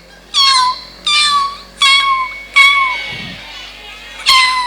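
A human voice mimics a kitten with seven high, drawn-out meows in a steady rhythm, loud and close, with a short low murmur between them, during an Islamic sermon.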